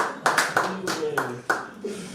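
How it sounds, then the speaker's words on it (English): Hand claps ring out at a conference talk, a handful of sharp, separate claps spaced irregularly over about two seconds, fairly close, with speech-like tones between them. "When I clap for my jam"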